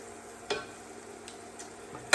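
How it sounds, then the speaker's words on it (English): Butter melting in a pan for chicken Marsala, giving a soft steady sizzle broken by a few sharp scrapes of stirring, with a louder clatter at the end; no one talks. "And we're gonna melt the butter."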